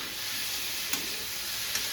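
Vegetables sizzle steadily in a hot pan, a constant frying hiss with two brief clinks from stirring, moderately loud and close, no talk.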